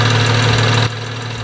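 BMW N55 engine running loud and close with a steady mechanical drone as intake valve cleaner is injected through a hose, then the tone abruptly drops to a quieter, lower idle.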